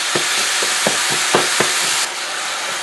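Ground meat browning in a pan, a steady hiss broken by repeated scraping, chopping strokes as it is broken up and stirred, then the sizzle carries on alone.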